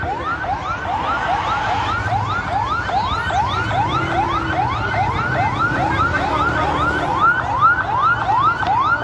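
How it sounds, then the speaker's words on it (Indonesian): A fire engine's siren wails in a rapid, repeating rising yelp as the truck arrives at a building fire in Padang, loud and close over rumbling street and crowd noise. "Barusan pemadam kebakaran baru sampai di lokasi."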